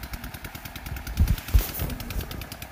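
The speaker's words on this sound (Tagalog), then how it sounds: "Isang makina at 2 kaligay po ang hinihila niya" An engine driving two irrigation water pumps on a newly converted irrigation setup runs with a steady, rhythmic mechanical chugging and a few heavier low thumps in the middle, close by, with no talking.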